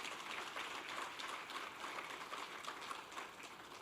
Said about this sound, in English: To that, I'd like you to give her another round of applause.